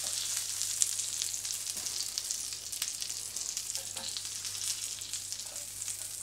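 Rabbit legs frying in hot oil in a tiny casserole, a steady close sizzle with soft crackles and spits running throughout.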